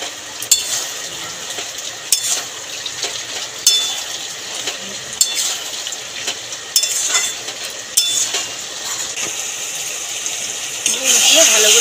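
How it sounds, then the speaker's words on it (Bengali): Chichinga and potato curry being stirred with jaggery in a pan, the spoon scraping and clinking against the metal at irregular intervals over a soft sizzle. "গুড় দিয়ে ভালো করে নাড়িয়ে চাড়িয়ে মিলিয়ে নিয়েছি"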